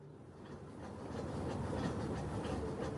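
A passenger train rolls steadily along the tracks on the way to Calcutta, a continuous rumbling clatter with faint rhythmic clacks, close and moderately loud, no voices.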